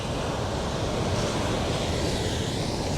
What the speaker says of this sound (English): It's getting really windy and the waves are getting very loud.